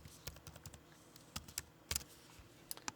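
Quick, irregular clicks of typing on a computer keyboard while entering a username and password into an iOS app sign-in page; faint, close key taps alone with no talk.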